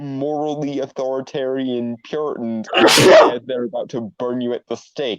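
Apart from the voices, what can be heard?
sneeze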